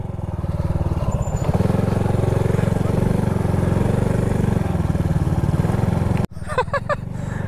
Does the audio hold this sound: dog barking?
no